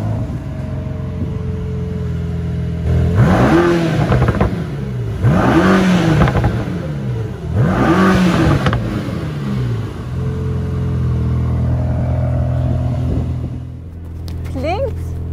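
A Mercedes-AMG GT Black Series engine revs loudly three times in quick succession, each rev rising and falling sharply, then settles into a steady idle with a brief final blip, heard up close from inside the car.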